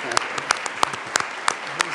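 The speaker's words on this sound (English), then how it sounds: "Please applaud." Applause in the Colorado House of Representatives chamber during a 2016 legislative session, a scattered crowd clapping with sharp irregular claps over a steady room murmur, fairly close and moderately loud.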